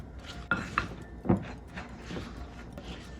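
A spoon stirs gluten-free gnocchi dough in a bowl, giving a few close scraping knocks and clinks against the bowl, followed by softer rubbing and stirring sounds.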